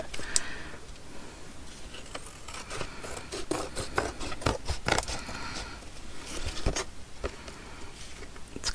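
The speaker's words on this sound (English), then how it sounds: "Let's go ahead and trim off the excess here." Scissors trim excess paper from a junk journal page, heard as a series of close, crisp snips and rasping paper rubs in irregular bursts with no talking.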